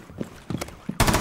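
Gunfire in a tactical shooter game erupts as a sudden loud burst of shots at the end, after a few quieter clipped sounds, close and harsh.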